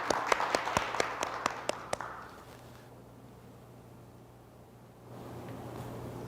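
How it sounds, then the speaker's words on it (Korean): Applause from a forum audience greeting the vice-chairman of a presidential low-birth-rate and aging society committee, a brisk burst of distinct claps that fades within about two seconds, leaving a quiet room hum. "서형수 부위원장님을 박수로 맞이해 주시기 바랍니다."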